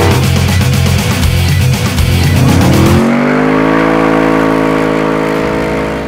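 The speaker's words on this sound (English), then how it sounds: "it's not the first time you've seen us driving this Brock Coupe, but now it's called a Shelby Daytona Coupe" Superformance Shelby Daytona Coupe replica, a Brock Coupe body, driving with a loud, steady engine note that rises in pitch and then holds a smooth cruising hum, close and continuous with no talk.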